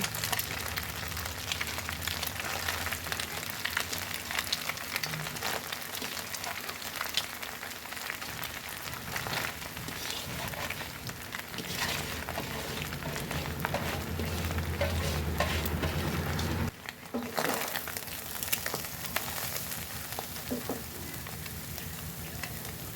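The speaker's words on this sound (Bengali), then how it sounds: "এবার এক এক করে কলাই শাক দিয়ে দিব।" Kalai greens (Bengal gram leaves) stir-fried with egg and onion in a pan, giving a dense continuous sizzle with constant stirring scrapes, close and loud, briefly dipping near the end.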